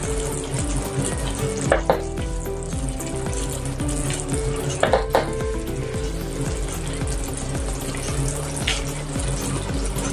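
Stuffed eggplant (bharwa baingan) frying in a pan, a steady sizzle that runs throughout at a close, even level, with a few brief clatters from stirring or turning.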